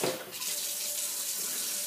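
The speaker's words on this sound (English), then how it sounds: "rinsing this hair, rinsing the conditioner. Start rinsing it. I use like a lukewarm water" Lukewarm water runs steadily from a tap while conditioner is rinsed out of natural hair, a continuous close hiss and splash with no talking.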